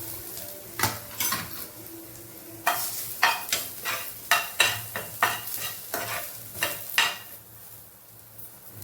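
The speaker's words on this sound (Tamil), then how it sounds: "இந்த மொத்தத்தையும் மிளகாய், இஞ்சி, பூண்டு, தேங்காய் எல்லாத்தையும் ஒன்றாவே போட்டு கொஞ்ச நேரம் வதக்கிடுவோம்." Chili, ginger, garlic and coconut stirred together in a dry pan without oil, with a spatula scraping and knocking against the metal in a steady series of clinks over a faint dry sizzle and no voices.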